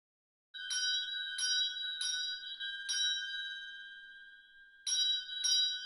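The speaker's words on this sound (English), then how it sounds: "Everything moves by the silvery tinkling of a small table bell." A small table bell in a school gives a silvery tinkling, several quick rings in a row, a pause, then two more, bright and close with no voices.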